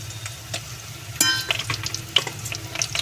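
Ginger paste frying in a pan and being stirred while chicken curry is cooked, with soft sizzling under scattered clinks and scrapes of a spoon against the pan, close and fairly quiet, no talking.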